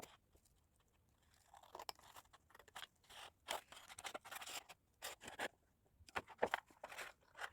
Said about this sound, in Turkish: Şimdi ben bunları hızlıca kesiyorum.